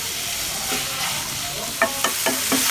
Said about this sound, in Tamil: இது ஒரு 2-3 மினிட்ஸ் வரைக்கும் நல்லா வதங்கட்டும்.